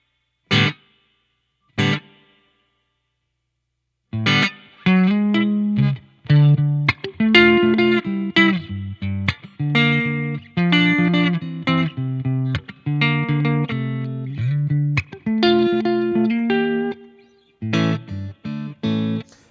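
Electric guitar played through a BOSS GT-1000 processor with heavy reverb: two isolated plucked notes, then a steady run of chords and melodic phrases that ring out with a wash of reverb trailing each note.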